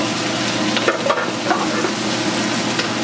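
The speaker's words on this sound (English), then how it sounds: "I'm going to add my onion in." Onion hits hot oil with red and green peppers, giving a loud, dense frying hiss broken by a few crackles and spatters, with no talking.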